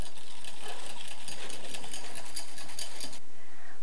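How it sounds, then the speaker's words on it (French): Egg yolks whisked with sugar for a chestnut-cream mascarpone Christmas log, a rapid buzzing whir of a mixer running steadily and close for about three seconds before stopping abruptly. "On va mélanger le sucre avec nos jaunes d'œufs et on va les fouetter jusqu'à ce que ça blanchisse"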